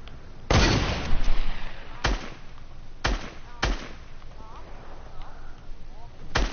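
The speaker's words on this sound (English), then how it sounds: "Gonna hit you mid-air with the sniper" Sniper rifle shots in a battle royale video game: five sharp, loud cracks spaced a second or so apart, each with a short thudding tail, while a voice talks between them.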